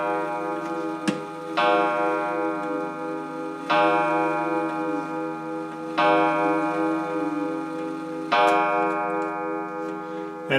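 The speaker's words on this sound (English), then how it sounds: "Lovely, ticking away." A restored German pendulum clock ticks steadily and close up, with bright metallic ringing tones that swell at regular intervals of about two seconds over the even tick-tock.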